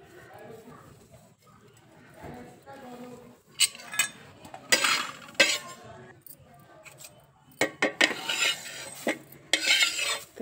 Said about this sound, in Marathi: मी आधी हवरी तीळ भाजून घेते